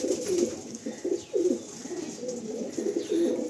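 Pigeons of a face-cut breed coo in repeated soft, throaty phrases, close and clear, several calls across a few seconds with no talk.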